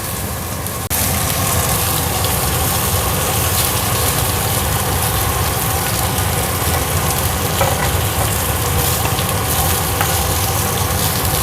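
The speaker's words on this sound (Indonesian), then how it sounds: "Karena ini tuh kayak dipanggang ya, minyaknya dikit banget, bukan digoreng." Food pan-roasts in a pan with only a little oil, giving a loud, steady sizzle and crackle that runs unbroken for the whole stretch, with no talking over it.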